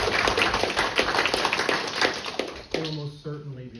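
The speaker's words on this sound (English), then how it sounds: "how about a round of applause for those two great guys?" Audience at a Litchfield, Illinois city council meeting breaks into dense, close applause that fades after a couple of seconds, followed by someone speaking.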